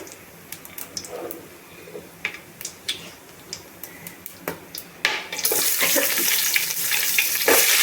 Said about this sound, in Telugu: జీలకర్ర మంచిగా వేగాలండి